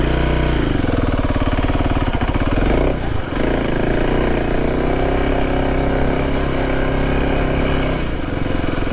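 Motorcycle engine running steadily and loudly up close while the bike rides over loose ground, with a brief dip in the drone partway through and no talking.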